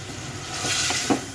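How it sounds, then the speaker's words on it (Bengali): Papaya pieces frying in spiced oil for a tilapia curry, giving a steady close sizzle and hiss with a faint stir partway through. "পেঁপেটা এখন কষাই নেব এখানে।"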